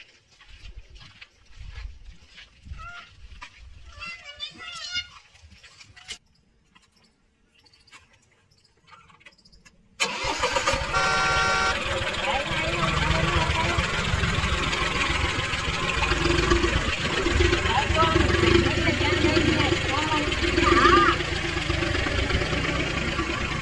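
A tractor engine comes abruptly to life after a stretch of quiet, scattered sounds, then runs loud and steady up close for the rest of the stretch.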